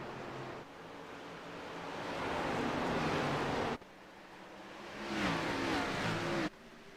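Stock cars racing at Richmond in a racing video game, engines droning loud and steady for about seven seconds, swelling and shifting pitch as they pass, with sharp cuts between segments.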